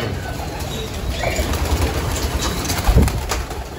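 Stock hens and young squabs in a pigeon breeding loft make soft cooing and rustling with a few wing flaps, close by and steady over background noise.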